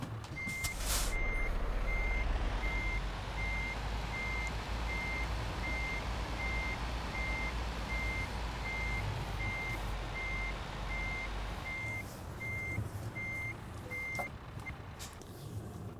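Truck in Euro Truck Simulator 2 reversing, regular evenly spaced backup beeps over a steady engine rumble, ending with a hiss of air brakes near the end; no talking.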